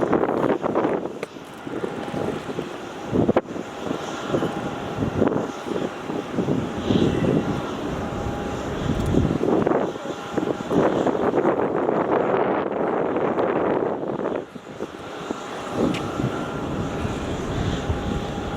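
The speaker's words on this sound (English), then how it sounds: "Alright, JetStar A320 on final. Short final." A Jetstar Airbus A320 airliner on short final approach at Melbourne Airport makes a steady, broad jet roar that swells and fades, with gusty wind buffeting the microphone throughout.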